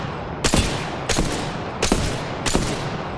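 Gunfire in the video game Apex Legends sounds as four loud, sharp bursts spaced evenly about seven-tenths of a second apart, each with a short ringing tail.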